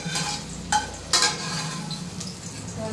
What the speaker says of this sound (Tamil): கடாய் இங்கே வச்சிருக்க மிளகு சீரகம் வறுத்துட்டு